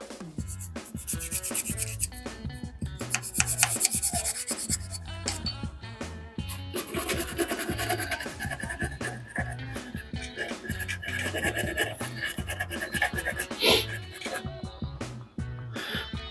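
Dirty AR15 rifle parts from a Daniel Defense DDM4 V7 SLW being rubbed and scrubbed clean, a continuous close scratchy rubbing with irregular strokes throughout, with intermittent speech over it.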